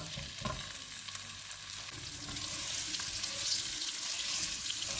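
Boiled baby potatoes fry in a pan with a continuous loud sizzle and hiss that swells slightly partway through, close and steady, with occasional stirring scrapes and no talk.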